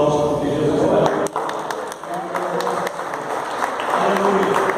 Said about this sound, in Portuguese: Jesus merece um aplauso, porque Jesus é maravilhoso.